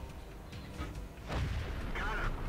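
An AMX 50 120 tier 9 heavy tank gun fires in World of Tanks, one deep booming shot that rises midway and rings on under game noise and faint voice.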